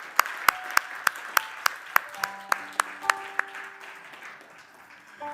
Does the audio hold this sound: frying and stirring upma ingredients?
no